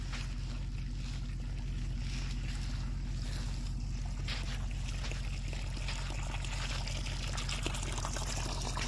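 Water trickles and pours steadily into a small pond basin, a constant low rushing wash with a faint gurgle, continuous and fairly quiet throughout.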